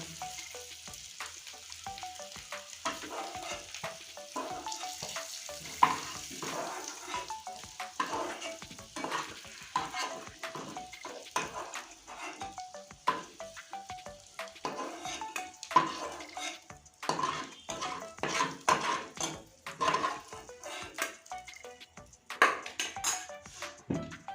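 Fish and potato pieces fry in oil for biryani while a utensil stirs and lifts them from the pan, with frequent clinks and scrapes over a soft sizzle.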